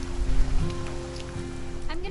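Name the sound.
rain falling in What Remains of Edith Finch video game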